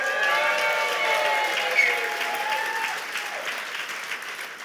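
A banquet audience at a Hawaiian Shinnen Enkai New Year's party claps in a dense, sustained round of applause that slowly thins and softens toward the end.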